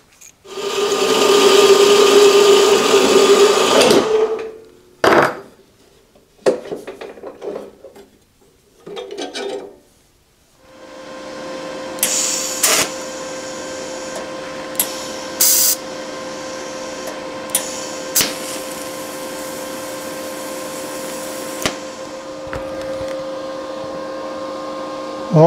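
In a home machine shop, a part for a floating tap follower for a milling machine is worked on. A loud burst of noise and a few short bursts give way to a steady, buzzing TIG welding hum with occasional clicks.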